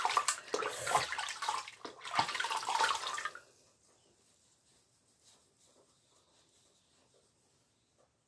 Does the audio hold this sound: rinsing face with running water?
yes